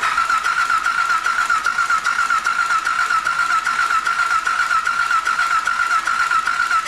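The starter motor on a KTM 950 Adventure motorcycle engine cranks with a steady, rapid, rhythmic whir that runs unbroken and close.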